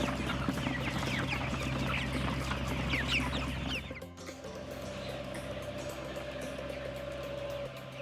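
Chickens cluck and chatter continuously nearby, a dense flock sound with a steady low hum underneath.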